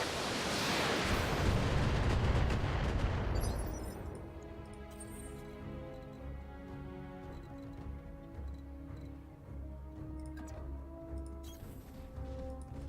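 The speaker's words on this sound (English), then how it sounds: "Firing a full salvo." A mech unleashes a full weapons salvo in the BattleTech video game: a loud, roaring burst of fire for several seconds, then a lingering mechanical hum with scattered metallic clanks as the barrage dies down.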